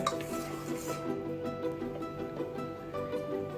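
A spoon stirs paneer butter masala mixed with a little water in a cooker pot, producing soft scraping and light clinks against the metal, close up, alongside a faint kitchen hum and no speech.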